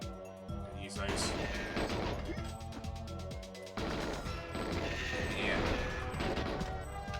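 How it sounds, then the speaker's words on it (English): A filing cabinet bursts apart under gunfire in GoldenEye 007 on the N64, loud game crashes and shot bursts layered over game music with a brief spoken word. "Even the filing cabinet explodes when you shoot it."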